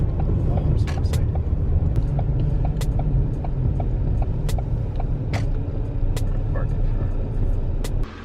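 Interior cabin sound of a Buick Roadmaster Wagon driving, with a steady low engine and road rumble throughout and occasional clicks and knocks, while people talk over it.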